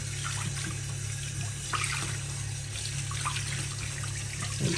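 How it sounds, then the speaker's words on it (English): Tap water running over transparent plastic shelf dividers in a bathroom sink, a steady splashing trickle with a constant low hum beneath it, no talking. "Just run some water on it and give them, just rub a little bit"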